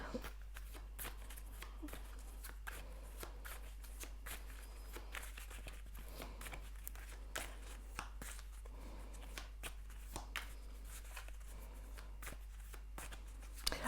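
Tarot cards are shuffled in quick, soft riffling bursts, crisp flutters repeating over a faint steady hum, with no voices.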